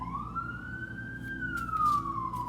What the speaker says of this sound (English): These sirens are out here for a reason